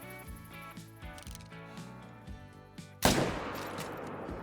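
A single loud rifle gunshot bursts out about three seconds in while hunting an animal in the Call of the Wild hunting video game, preceded by a steady rhythmic thumping music or game loop and followed by a ringing, echoing tail.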